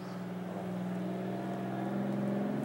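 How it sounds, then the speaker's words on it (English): Utility trucks pulling fiber power lines roll around a residential neighborhood, a steady mid-distance engine hum with a gradually rising whine, no voices. "the fiber to the house power line pullers are driving around the neighborhood"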